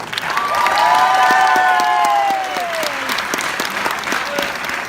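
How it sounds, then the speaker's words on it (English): An audience at a talk event breaks into loud, sustained applause for a speaker, with a rising whoop or cheer riding over the clapping early on before it settles and thins out. "Another applause for Alex."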